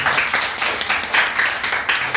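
A church congregation claps in welcome during a worship service, a dense, lively burst of applause with rhythmic surges, close and continuous for the whole stretch.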